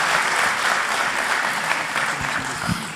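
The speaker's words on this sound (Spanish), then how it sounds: "Un aplauso, por favor" Full applause from an audience at a law faculty academic conference, dense and steady throughout, with a few low thumps near the end.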